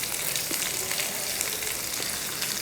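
Cumin seeds and chopped garlic frying in hot oil for a stir-fried agathi greens dish, giving a steady, dense crackling sizzle close up with no voices.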